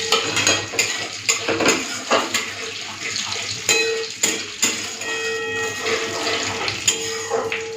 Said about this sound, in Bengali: তো তেলের মধ্যে ফোড়ন দিচ্ছি, শুকনো লঙ্কা, পাঁচ ফোড়ন, এইসবই দিয়ে দেবো